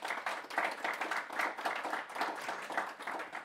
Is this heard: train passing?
no